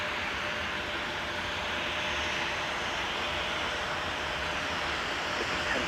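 A fixed-wing airplane at a snowy Minneapolis–St. Paul airport during deicing operations, cleared for takeoff from runway 17; a steady, loud broadband engine roar holds constant throughout with no speech.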